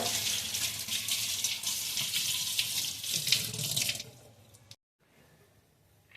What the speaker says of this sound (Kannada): ಪಪ್ಪಾಯ ಚೆನ್ನಾಗಿ ವಾಶ್ ಮಾಡ್ಕೊಳ್ಳೋಣ